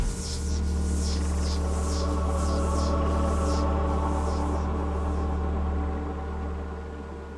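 Ship teleport effect from the Ultima IX video game: a dense, buzzing electronic hum with static hiss and a series of swept, fluttering high whooshes, fading out near the end.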